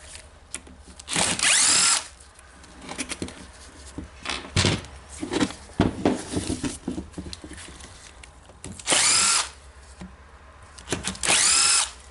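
A power tool drives out screws from the housing of an Eibenstock EHD 1300 hand-held diamond core drill, with several loud whirring bursts of one to two seconds separated by nearby clicks, rattles and handling of parts.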